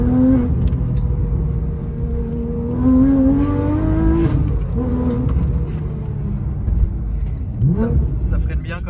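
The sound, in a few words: car driving through Paris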